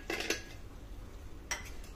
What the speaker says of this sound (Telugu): దీన్ని కూడా ఒకసారి ఇలా కలిపేసుకుని